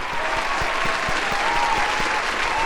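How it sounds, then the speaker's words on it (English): An audience at a college foundation scholarship awards ceremony gives sustained applause for scholarship recipients and donors, a dense, even wash of clapping with faint voices underneath. "Let's give a big round of applause to all of our scholarship recipients and donors."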